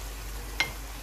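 Green chillies, ginger and coriander are stirred into mutton karahi frying in a wok, giving one quick scrape of the spoon over a faint, steady sizzle.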